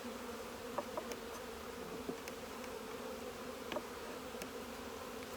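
Honey bees in a nucleus hive box buzz as a faint, steady drone, with small clicks and knocks from handling frames scattered over it.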